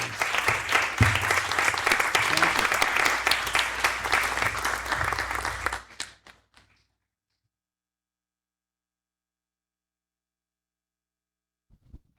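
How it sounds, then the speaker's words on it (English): Congregation applauding in a church sanctuary, a dense, steady wash of many hands clapping close and loud for about six seconds, then stopping abruptly into near silence with a faint knock near the end. "Let's give them all one more big round of applause."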